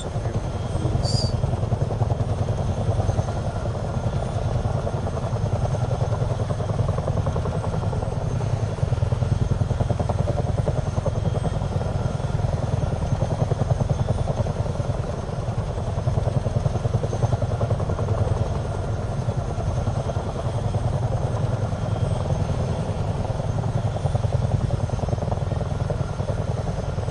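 A helicopter flies in Microsoft Flight Simulator 2024, its rotor and engine producing a loud, steady droning whir with a low throb that stays constant throughout.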